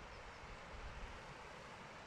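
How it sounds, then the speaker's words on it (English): A waterfall on a riverside property in Castelo Branco, heard from a distance as a steady, faint broadband rush without breaks or other sounds. "From here you already hear the waterfall."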